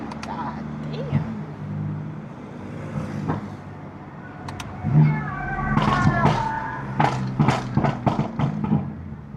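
A BMW F80 M3 on the road, its engine and exhaust rising and swelling in rough bursts toward the end, with someone talking loudly over the drive.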